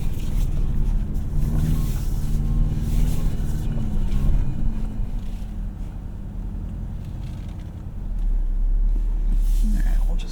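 The 2024 Toyota Tacoma Trailhunter crawls slowly over a rocky off-road trail, its engine a low steady hum. Tyres crunch and rumble underneath, swelling louder near the end, while a voice talks over part of it.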